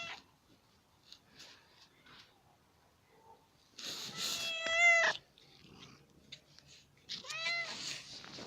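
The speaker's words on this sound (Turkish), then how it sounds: "Çok miyavlıyor." A cat meows loudly twice, each cry long and wavering, with faint rustles and quiet stretches in between, heard up close.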